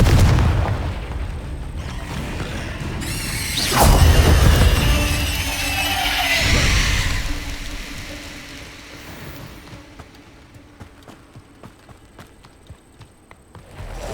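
A Confringo fire spell from the Hogwarts Legacy game bursts with a deep booming blast and a whooshing surge, followed by a fading rumble and light scattered clatter.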